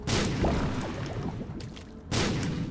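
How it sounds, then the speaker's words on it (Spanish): Bomb explosions in The Binding of Isaac, two loud booming blasts with a dense rumbling tail, the second after a brief lull, close and full, with no talking. "Tengo que tener cuidado, ¿eh? Que ahora la explosión es más grande."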